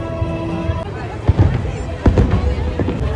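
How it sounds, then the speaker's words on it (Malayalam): Fireworks go off at Global Village in Dubai as a few deep booming bursts over a continuous hum of crowd noise and nearby voices. "നമ്മൾ കയറിയപ്പോൾ തന്നെ ഫയർ വർക്ക് ഉണ്ടായിരുന്നു."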